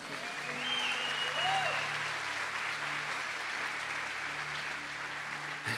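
Church congregation clapping in applause, a steady wash of many hands at moderate loudness lasting several seconds, with faint voices murmuring underneath.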